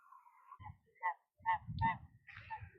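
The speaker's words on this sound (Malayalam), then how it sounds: "അതെ, താറാവ് തന്നെയാണ് അല്ലേ?" Several large ducks near the water give loud, nasal honking calls in short separate bursts with brief pauses between them, fairly close and with no talking.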